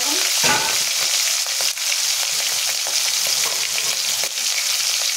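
Prawns frying in hot oil with black cumin seeds, a loud continuous sizzle with occasional stirring scrapes in a pan, close up and steady throughout with no talking.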